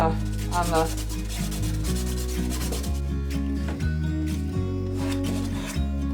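Clear wax is rubbed by hand onto a painted wooden drawer, a soft repeated rubbing and scraping in a steady back-and-forth rhythm, close and fairly quiet.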